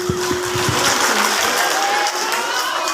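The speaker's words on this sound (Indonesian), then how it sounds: "Tepuk tangan." High school students at SMAN 1 Katapang clap together at an Isra Mi'raj religious gathering, a dense, continuous wash of hand claps filling the room.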